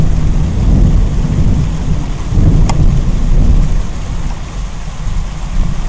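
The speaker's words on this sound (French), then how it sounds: "La pluie commence à battre les maisons" Heavy rain pours steadily while thunder rumbles low and long, loud and close, with a sharp crack partway through.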